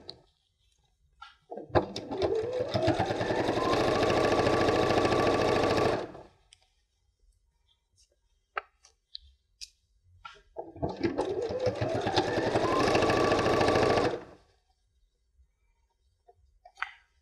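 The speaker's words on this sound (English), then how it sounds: "And straight up this long seam." Sewing machine stitching a long fabric seam, two sustained runs of rapid whirring motor and needle chatter that spin up and stop, separated by quiet clicks and handling noises.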